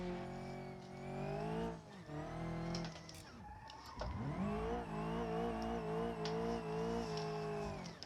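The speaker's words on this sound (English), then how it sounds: "Let's see if I know how to drift." A car drifting in the BeamNG.drive driving game, its engine revving hard with pitch rising and falling while tires squeal continuously through the slides; the sound is loud and close, with a brief dip midway before the revving surges again.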